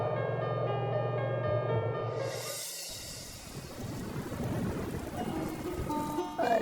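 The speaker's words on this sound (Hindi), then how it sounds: "बारिश शुरू हो गई।" Heavy rain sets in partway through, a dense steady hiss and patter replacing the earlier quieter ambience and continuing to the end.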